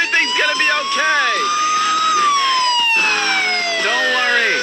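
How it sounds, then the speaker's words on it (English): Emergency vehicle sirens wail close and loud, sliding up and down in long sweeping tones, with people talking over them. "Don't mind the sirens, people."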